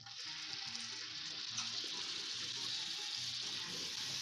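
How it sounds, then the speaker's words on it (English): Minced garlic sizzles in melted butter in a pan, a steady close hiss of frying that continues evenly throughout. "Now we take our minced garlic"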